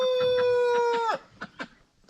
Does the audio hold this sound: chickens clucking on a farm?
yes